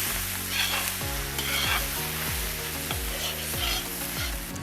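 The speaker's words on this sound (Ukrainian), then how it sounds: "Все разом буду ще смажити орієнтовно 5 хвилин." Diced carrots and onions sizzle steadily in a hot pan while a utensil scrapes and stirs at a regular pace, close and with no talking.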